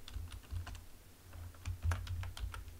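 Computer keyboard typing, a quick patter of close key clicks in uneven bursts, steady and moderately quiet, with no one talking.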